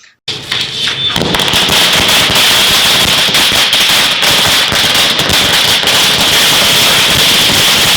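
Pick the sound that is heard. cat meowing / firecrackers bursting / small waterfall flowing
firecrackers bursting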